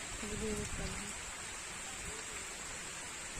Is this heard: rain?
yes